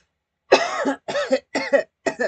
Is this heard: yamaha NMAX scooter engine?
no